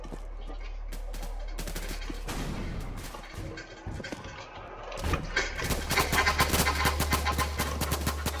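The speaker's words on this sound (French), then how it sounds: "Tire de partout." Dense gunfire in the VR shooter Project SCP, with rapid bursts and single shots stacking into a loud, continuous fusillade that thins briefly midway and then surges again, heavier and busier.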